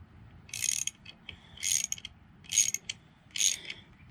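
A ratcheting tool clicks in four short bursts at a steady pace while a part is tightened during reassembly of a Schwinn Racer bicycle, close and crisp, with faint rustling between strokes.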